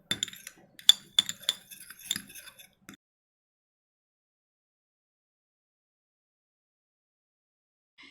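Rapid light clinks of a spoon against a small bowl while two ingredients are mixed, a quick irregular burst for about three seconds, then silence.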